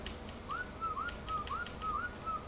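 A player's whistle command in Ark: Scorched Earth, telling tamed creatures to attack a target, sounds as a repeated rising two-note whistle, about four times in quick succession, over a low background hum.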